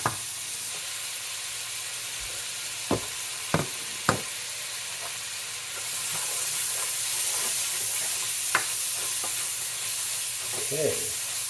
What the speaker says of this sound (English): So our butter's melting.